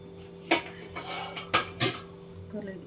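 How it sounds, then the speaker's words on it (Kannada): Basmati rice and methi pulao ingredients stirred in a pot: a few distinct spoon-on-metal scrapes and clinks at irregular intervals, close and moderately loud over a low steady hum. "ನಾನಿಲ್ಲಿ ಬಾಸುಮತಿ ರೈಸನ್ನು ಬಳಸ್ತಿದ್ದೀನಿ. ಇದನ್ನೆಲ್ಲ ಒಂದ್ಸಲ ಚೆನ್ನಾಗಿ ಮಿಕ್ಸ್ ಮಾಡ್ಕೊಳ್ಳೋಣ"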